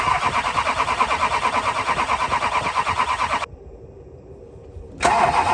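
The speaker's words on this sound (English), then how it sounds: "At this point, the truck is now dying" A Duramax diesel pickup truck with a no-start fault cranks and runs roughly, then abruptly cuts out to a low hum before the engine noise surges back, loud and steady with no talk.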